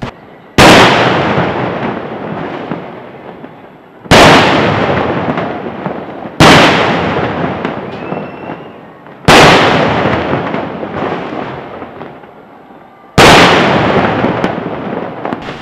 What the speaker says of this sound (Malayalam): പാറമേക്കാവ് വിഭാഗത്തിന്റെ വെടിക്കെട്ട് അരങ്ങേറി ശബ്ദഗാംഭീര്യം നിറഞ്ഞു നിന്ന കരിമരുന്ന് പ്രയോഗത്താൽ തേക്കിൻകാട് പ്രകമ്പനം കൊണ്ടപ്പോൾ